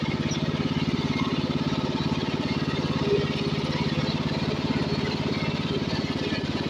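A tractor engine runs steadily while clearing pruning debris on a slope, a close, loud, evenly pulsing mechanical drone throughout, with someone talking briefly over it.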